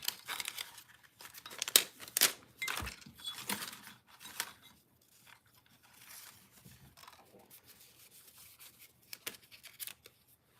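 Scissors snipping and crinkling paper while fussy cutting around a small banner shape in a mixed media floral craft session, a few sharp close cuts and rustles early, then quieter intermittent paper handling.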